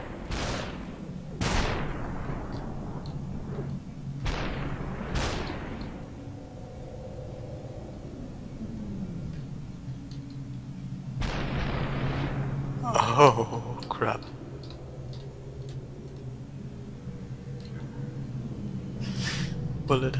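Gunfire in Superhot: several sharp, isolated shots spaced out, with a cluster of crackling impacts later, heard under frequent talk over a low, steady background hum.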